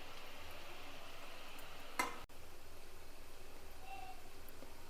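Chana dal chekodi snacks fry in hot oil, giving a steady, soft, close sizzle that stays even throughout, broken by one brief clink of a utensil midway.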